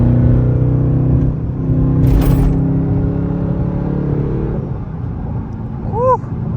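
A 650 hp SRT 392 cruises with a steady low rumble and a faint high whine running over the engine drone, close up inside the cabin, with no talking.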